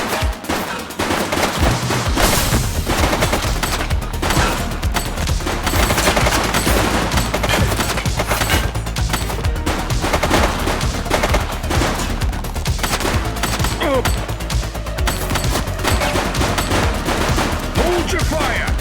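Sustained gunfire rages in the police video game The Precinct, a loud, dense, nearly continuous barrage of rapid shots and bursts with brief shouting mixed in.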